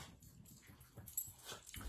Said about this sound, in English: Here comes my dog.